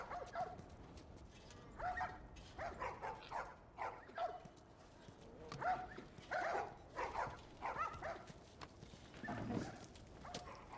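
A puppy in the video game The Last of Us gives a string of short yips and whimpers, moderately loud and fairly close, in uneven bursts over a noisy background.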